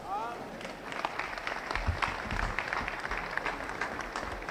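Applause from an audience at a 60th birthday celebration, a dense patter of clapping that rises and falls, with voices mixed in.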